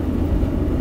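A 2016 Ford Ranger 3.2 diesel drives along an outback dirt track on Tarcoola Road in South Australia, giving a steady, loud low engine and road rumble heard from inside the cab with no voices.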